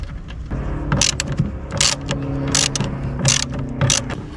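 A ratchet wrench tightens the bolt on a Renault Kangoo windscreen wiper arm, giving a steady run of close, clicking pawl strokes with sharp metallic bursts about every half second.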